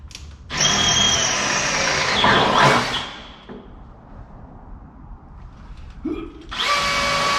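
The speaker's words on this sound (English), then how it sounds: "hate this new Milwaukee drill" A Milwaukee cordless drill with a dull bit whines loudly in two bursts, the first about two and a half seconds long with its pitch bending as it bites, then a pause before it starts again.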